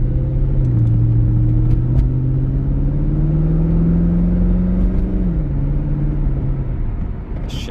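A 2004 Chevrolet Corvette drives along with a steady, close engine drone and low rumble whose pitch eases up and down gently as it cruises, with no one speaking.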